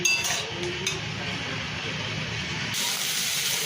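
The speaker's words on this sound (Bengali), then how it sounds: "চিংড়ি মাছগুলো দিয়ে ভালো করে চিংড়ি মাছগুলোকে ভেজে নিতে হবে।" Prawns frying in oil in a pan, a steady close hiss and sizzle that continues throughout with occasional faint clinks.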